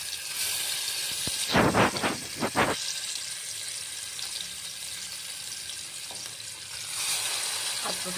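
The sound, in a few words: marinated chicken frying in hot oil in a pressure cooker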